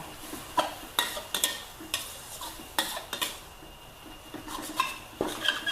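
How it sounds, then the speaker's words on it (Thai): Glass noodles go into a pan and are stir-fried, bringing a soft background sizzle under repeated sharp clacks and scrapes of a utensil against the pan, close and uneven in rhythm. "ใส่วุ้นเส้นลงไป"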